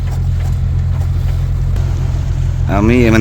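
A steady, loud low engine drone throbs continuously from a fishing trawler at sea, close by, and a voice begins speaking over it at the end.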